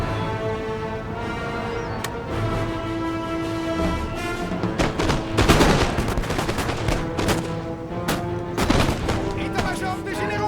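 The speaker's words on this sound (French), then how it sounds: "Le canon est prêt, monsieur!" Repeated booming cannon fire in a Napoleon: Total War siege battle at Toulon, sharp blasts clustering and overlapping throughout, loud and close with a rumbling backdrop.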